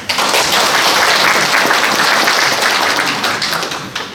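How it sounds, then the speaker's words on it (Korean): A crowd at a Korea–Vietnam international forum applauds loudly and continuously for about four seconds, the dense clapping tapering slightly at the end. "큰 박수 합니다"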